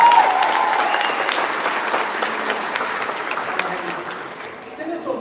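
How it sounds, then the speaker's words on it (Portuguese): A church congregation claps for the women after a game, a sustained wash of applause that starts loud and eases slightly, with a brief whistle-like tone at the very start. "Uma salva de palmas para as mulheres"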